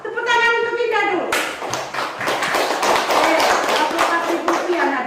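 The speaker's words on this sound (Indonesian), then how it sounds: "Tepuk tangan untuk Indah dulu" A classroom of students claps together for a classmate after her correct answer, a dense steady patter of hands that follows a brief sustained tone and stays loud throughout.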